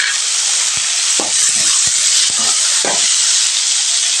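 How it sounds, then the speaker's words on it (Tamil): Chopped tomatoes land in a pan of frying onions, setting off a loud, steady sizzle with a few soft clicks and scrapes of stirring, and no one speaks. "இப்போ நம்ம தக்காளி போட்டுருவோம்."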